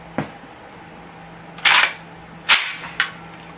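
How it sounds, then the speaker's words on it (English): A PTR44 MP44-style rifle is cocked, its ejector port cover snapping open, giving a few sharp metallic clacks close by in an otherwise quiet room. "this will open up when you cock the gun, your ejector port automatically opening up"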